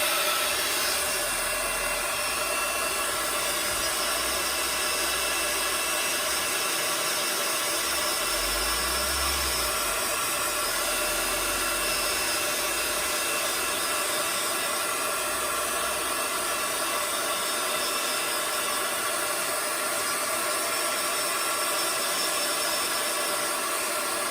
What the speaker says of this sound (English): So I'm just going to heat set it.